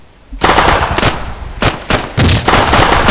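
Rapid automatic gunfire from a night co-op mission in the military shooter Arma 2, loud, close bursts breaking off and starting again over roughly three seconds.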